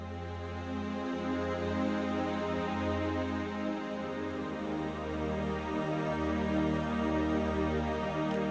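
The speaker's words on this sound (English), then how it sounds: "what you hear now is a Blue 3 preset" Rob Papen Blue 3 synthesizer preset playing a sustained, harmonically rich chord pad with slowly shifting tones, steady and alone with no voices.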